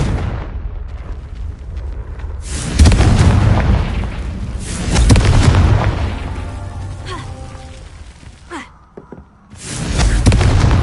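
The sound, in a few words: Confringo blasting spell explosion in the Hogwarts Legacy video game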